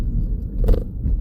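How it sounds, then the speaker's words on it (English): A 2018 Suzuki Ignis 1.2 Dualjet rumbles low and steady in third gear, with a brief thump and rattle as it rolls over a speed bump. "nice and solid over the speed bump"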